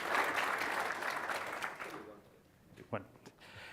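Applause from a conference audience at Microsoft Ignite 2016 fills the first two seconds, then fades out, leaving a quiet stretch with a brief voice near the end.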